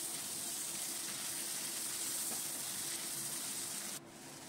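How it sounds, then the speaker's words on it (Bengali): Small cubes of paneer sprinkled with salt and turmeric fry in hot oil, giving a steady, even sizzling hiss that holds for about four seconds, then drops slightly quieter. "সামান্য নুন দিলাম আর একটু হলুদ দিলাম, দিয়ে পনিরটা ভেজে নিলাম।"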